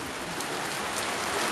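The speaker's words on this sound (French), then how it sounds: "sous la pluie" Steady rain falls during an outdoor school year-end ceremony in Tiassalé, a dense, even hiss with no pauses and no voices.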